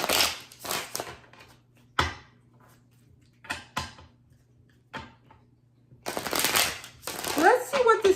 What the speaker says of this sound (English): I'm going to need a second here to shuffle it.